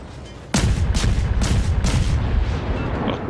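Warship guns firing in World of Warships on the destroyer Blyskawica, a sudden loud booming salvo of four heavy shots in steady succession, each with a rumbling tail.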